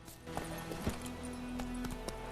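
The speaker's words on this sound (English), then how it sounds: "let's go ahead and get the horse" A horse's hooves clip-clop in the video game The Witcher 3, a steady run of moderately loud hoof beats over a constant game soundscape with a sustained tone, with no talking.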